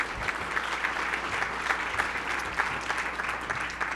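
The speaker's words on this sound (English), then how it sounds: "So let's have another great round of applause for these folks." A large audience gives a sustained round of applause for performers and a band at a rural assembly event, dense, even clapping filling the room at moderate distance with no talking over it.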